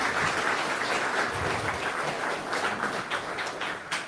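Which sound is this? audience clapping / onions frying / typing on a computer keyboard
audience clapping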